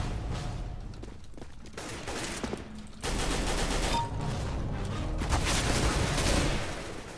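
Sustained automatic gunfire from two players spraying bullets in CS:GO, a dense, steady rattle that grows louder and fuller midway and continues without a break.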